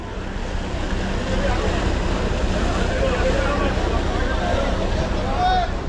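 Steady rumble of a boat ride on open water, with wind buffeting and waves washing against the hull, continuous and close throughout, a faint voice mixed in underneath.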